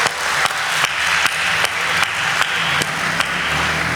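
Audience at a Hindi comedic poetry recital applauds with a steady, dense wash of clapping, moderately loud and continuous with faint periodic accents, and no one speaking over it.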